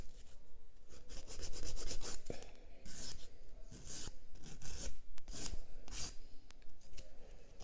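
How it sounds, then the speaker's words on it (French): A nail file rasping across a natural fingernail, including the underside of the nail, in short repeated back-and-forth strokes, close and clear with no talking. "Là, je lime par en dessous aussi l'ongle."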